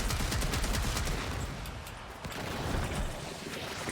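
Rapid gunfire in the Warframe video game during a Zephyr build showcase, a dense, continuous rattle of shots with a heavy low rumble that stays loud and steady throughout, without speech.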